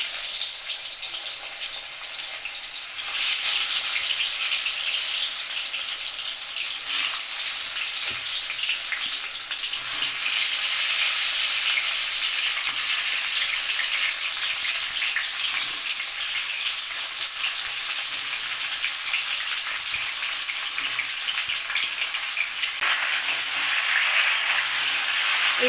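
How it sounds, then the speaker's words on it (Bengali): Sweet mango pieces for pickle sizzle and crackle in hot oil, a loud steady frying hiss heard up close, with occasional stirring and no one talking. "তেলটা এখন পুরো গরম হয়ে গেছে। এখানে আমি আমগুলো ছেড়ে দেব।"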